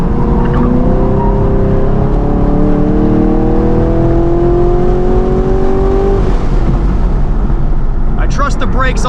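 A 2023 Camaro SS 1LE is driven hard around Gingerman Raceway, its V8 engine loud and close as it climbs steadily through the revs, then shifts near the end. A voice talks over it.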